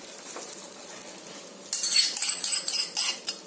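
A metal spoon clinks against a pan as ghee-fried cashews are stirred into kesari: a quiet start, then a burst of bright clinks and scrapes near the end, close by and with no voices.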